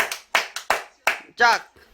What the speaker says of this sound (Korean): 한 번 박수 치고 한번 치고 한번 치고 한번더 박수 치고